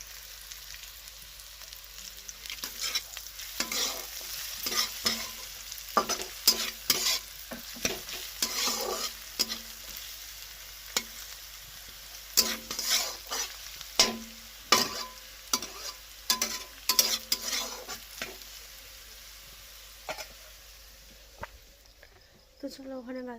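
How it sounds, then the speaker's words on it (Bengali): Carrots and potatoes fry in a pan for egg fried rice as a spatula stirs and scrapes in repeated bursts over a soft sizzle, close and fairly quiet, with a voice faintly present at times. "ভাত ভাজা করছি গাজর আলু দিয়ে, ডিম দিয়ে ভাত ভাজা হবে"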